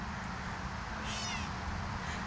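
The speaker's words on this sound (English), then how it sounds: "And we've got a fridge top kitty screaming." A cat perched on top of a fridge lets out a loud, screeching meow, rising clearly over a steady bed of background noise for about a second before fading.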